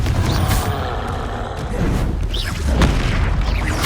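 A Confringo spell goes off in the game Hogwarts Legacy with a loud, dense blast and crackling burst, followed by rumbling debris and further impact noise that fills the whole moment.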